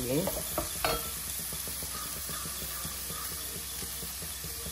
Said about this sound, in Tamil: அப்படியே கிண்டி விட்டுருவோம்.